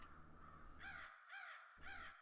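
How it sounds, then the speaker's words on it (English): Crows cawing as an eerie intro sound effect, apparently from the game Dark Souls: three harsh, loud caws spaced about half a second apart, set over a low rumbling background drone. "Next we have these crows."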